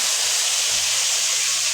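Eggplant sautéing in a hot pan for adobong talong, a loud, even sizzling hiss that stays constant throughout with no pauses and no voices.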